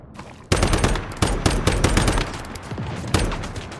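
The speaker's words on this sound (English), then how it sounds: "why are you shooting me from like outside my range?" Enemy gunfire in a shooter video game rattles out in loud, close bursts of rapid automatic shots, thick and continuous for several seconds with short breaks, and no talk over it.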